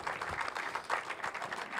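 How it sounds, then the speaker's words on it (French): Audience applause at a talk event, a short burst of dense clapping at moderate level. "Applaudissements, s'il vous plaît"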